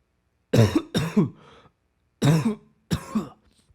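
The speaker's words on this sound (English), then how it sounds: "I really apologize for my coughing" Four harsh coughs come in two quick pairs separated by a short pause, loud and close, with no talking around them.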